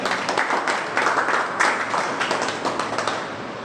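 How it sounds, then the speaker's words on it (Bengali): An audience claps steadily at a joining ceremony where ID cards are handed out in a Malda district office, a fairly close, sustained round of applause with no talking over it. "হাততালি দাও, হাততালি দাও।"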